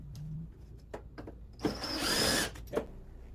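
A power drill backs screws out of an Amana PTAC heater unit, giving a short whirring burst amid faint clicks and handling noise, close by.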